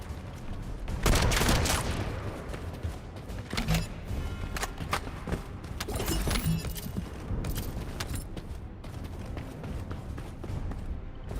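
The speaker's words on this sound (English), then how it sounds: "Evidently, when I use that cannon" A cannon weapon fires in the video game The First Descendant, with bursts of heavy blasts and rattling gunfire over busy in-game action, mid-loud and layered throughout.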